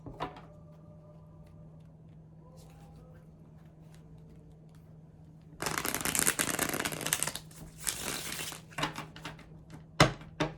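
Super Lunaris tarot cards are shuffled up close after a quiet stretch with faint clicks and a low hum, giving several seconds of loud crisp riffling followed by a few separate card slaps and taps.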